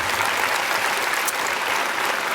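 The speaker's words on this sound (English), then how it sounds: "Well worth applause." An audience at a microbiology conference's opening session claps continuously, a dense, steady wash of applause from a large crowd.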